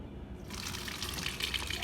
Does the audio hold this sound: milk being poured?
yes